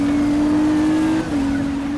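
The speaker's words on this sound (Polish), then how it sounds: "Wow, no to gaz do dechy." A Nissan GT-R in the racing game NFS Rivals accelerates at full throttle, its engine holding a loud, steady, close drone with a brief dip as it shifts gear.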